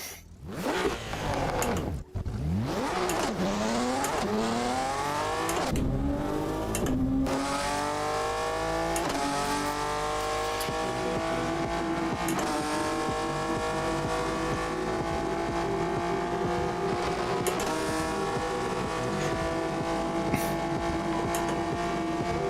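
In Assetto Corsa, a car engine on the No Hesi traffic server revs hard after a short drop, then climbs through long rising sweeps of acceleration and gear shifts, loud, close and continuous.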